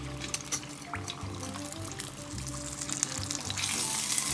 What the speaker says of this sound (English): And the fry time is basically about 10 to 12 minutes.